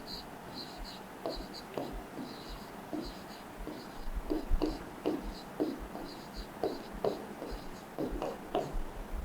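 Pen scratching on paper while long division is worked out for a Class 8 algebra lesson, soft irregular strokes and taps close by under a quiet room hiss.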